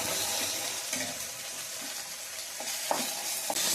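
Masala frying in a little oil for a brinjal and pea curry; a close, steady crackling sizzle with occasional stirring clinks and scrapes, no voices.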